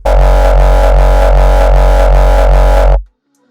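A heavy, booming synthesized saw kick drum with EQ boosting its fundamental low end, struck in a steady rapid rhythm for about three seconds, then cutting off abruptly.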